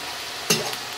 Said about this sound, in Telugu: ఇది వేగుతూనే ఉందండి.